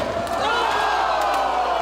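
A wrestling arena crowd cheers during a Dragon Gate USA match between Johnny Gargano and Shingo, a sustained roar of voices rising and swelling, mixed with commentator talk.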